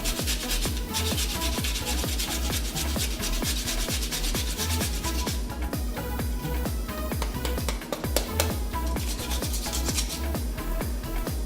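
Daikon radish rubbed steadily against a kitchen grater, a dense, continuous scraping made of quick, even strokes that runs the whole time, loud and close, with no one talking.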